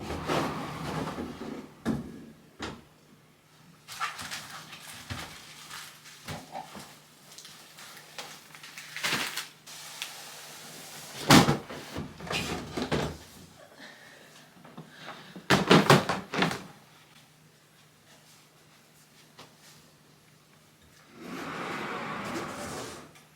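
Closet doors holding Christmas decor are opened at home, giving a series of clunks, rattles and sliding bumps with louder bursts of knocking midway and a rustling stretch at the end, fairly close and without talk.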